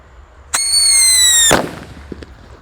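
A single shrill whistle from a Whistling Thunder firecracker rises for about a second and ends in a sharp, loud bang, followed by faint crackles and quiet.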